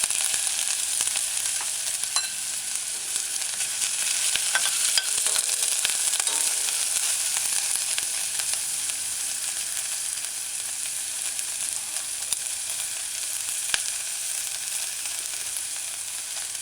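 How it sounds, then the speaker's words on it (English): Sliced onions sizzle steadily in a pan for a vegan red cabbage, broccoli and coconut stew, with a continuous close frying hiss, scattered pops and occasional scrapes of stirring, and no talking. "Stir it in a few times. Allow it to saute."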